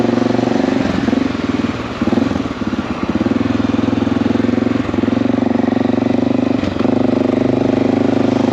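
A Honda Cub motorcycle engine idles close by with a steady, loud, buzzing putter, holding an even rhythm throughout with a few slight dips; no talking.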